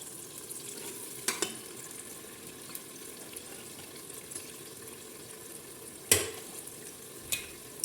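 Hot water simmering in a cooking pot for beef stew, a steady soft bubbling hiss that holds evenly throughout, broken by a couple of brief clinks near the start and toward the end.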